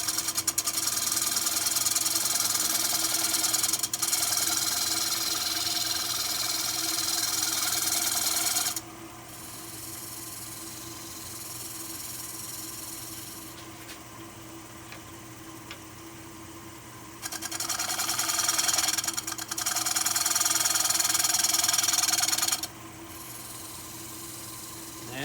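A lathe spins a camphor wood bowl while a tool shear scrapes its surface, giving a steady hissing, rasping whir that drops in intensity as the tool lifts off, then returns for a few seconds.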